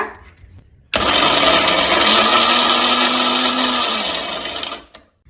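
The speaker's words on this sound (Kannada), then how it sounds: "ಬದಲಾಗಿ ಹೀಗೆ ಇದನ್ನ ಗ್ರೈಂಡ್ ಮಾಡ್ಕೊಳ್ತಾ ಇದ್ದೀನಿ ಪೇಸ್ಟ್ ತರ" A kitchen mixer grinder whirs loudly and steadily for about four seconds as it grinds tomatoes into a thick paste with no added water, starting abruptly and then winding down to silence.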